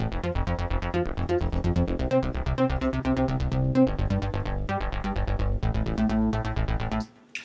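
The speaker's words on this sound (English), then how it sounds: "because sometimes it works really well ARPing the bass line" An arpeggiated synth bass line from REFX Nexus plays as rapid, evenly pulsing repeated notes in a steady driving rhythm, loud and alone, cutting off abruptly at the end.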